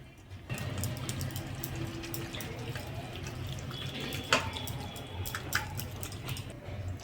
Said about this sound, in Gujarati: આ રીતે જારીમાં નાખી અને પાણી બધું નિતારી લેવાનું